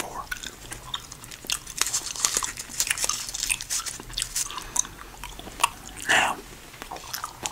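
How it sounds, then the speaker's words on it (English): Orbit gum is chewed close to the microphone with wet, crackling bites and smacks that keep going steadily, with no voice over them. "usually I don't chew Orbit gum."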